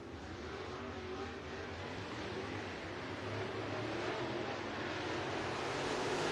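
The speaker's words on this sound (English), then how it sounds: "These the cars on the racetrack for hot lap session number 1." Race cars lapping a short track at Southern Raceway during hot lap session number 1, a steady broadband engine roar sustained throughout at moderate distance, swelling slightly louder toward the end.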